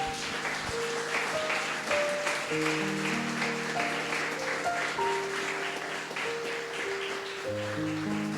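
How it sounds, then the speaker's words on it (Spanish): Congregation applause at a church service, a broad steady clapping that fills the whole stretch, mixed with sustained keyboard or organ chords playing underneath. "Le damos un fuerte aplauso al Señor"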